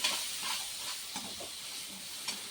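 Onions frying in a pan with salt, turmeric and chilli powder give a steady close sizzle and hiss, with a few soft stirring scrapes and no voices.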